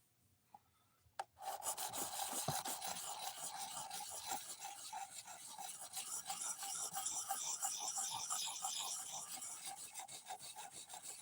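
Knife blade being sharpened by hand on a stone, heavily ground near the tip: a steady, loud rasping scrape of steel on abrasive that starts after a sharp tap and runs continuously with rhythmic strokes.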